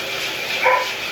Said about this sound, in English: She's a nice little dog.